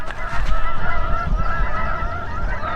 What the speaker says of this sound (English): I've got Canada geese back there